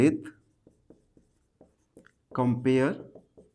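Hand writing during a Class 10 maths lesson on pairs of linear equations: a few faint, short pen or chalk strokes tick at intervals before a voice starts talking.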